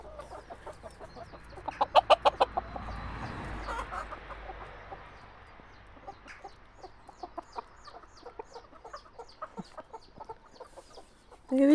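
Farmyard hens cluck softly among their chicks: quiet, scattered clucks and short calls, with a brief louder burst early on and a sharper call right at the end.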